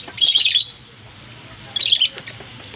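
Pet loft pigeons give two bursts of shrill squawking calls, loud and close, separated by a quieter pause.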